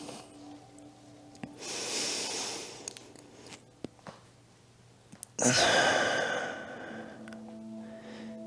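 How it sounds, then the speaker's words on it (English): Deep breathing during a spine-focused mobility class: a long audible inhale, then a second, louder breath a few seconds later, both close, with small knocks and shuffling between them. "Try and breathe deeply."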